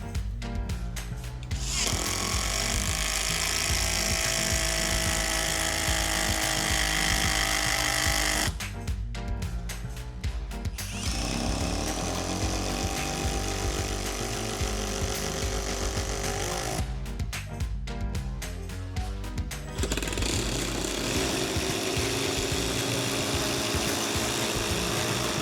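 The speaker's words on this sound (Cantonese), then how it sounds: "今日我會同大家開箱呢部 WU138 12伏液壓衝擊批" A WORX WU138 12V hydraulic impact driver runs in three long stretches of steady whirring, each broken by a short, harsh rattling burst. The sound is close and fairly loud, with no talk.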